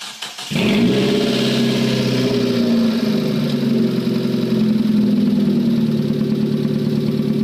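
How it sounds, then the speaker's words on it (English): A 1997 Hyundai SFX engine runs with no mufflers fitted, a very loud, raw, steady droning exhaust roar that starts abruptly and holds close and constant throughout. "This is how the car sounds like without any mufflers on."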